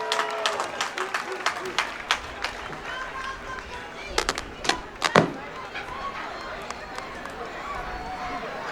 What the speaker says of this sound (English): Let's give a big round of applause to all the volunteers.